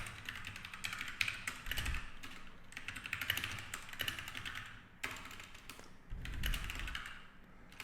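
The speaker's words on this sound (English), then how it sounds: "So I'm gonna start typing." Keys clatter on a new computer keyboard in irregular bursts of rapid typing separated by brief pauses, close and fairly quiet, with occasional heavier thumps.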